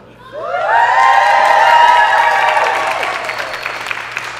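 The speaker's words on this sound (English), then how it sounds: "Give a cheer to Mama LaRue." A live stage-show audience bursts into loud cheering and applause for Mama LaRue, with whoops and children's shouts rising quickly, holding strong, then slowly tapering off.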